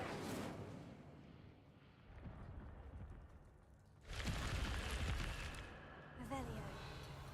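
A fiery Incendio spell cast in the Hogwarts Legacy video game, a loud burst of whooshing, crackling flame that swells suddenly and sustains for a few seconds, with softer game ambience and magical effects before and after.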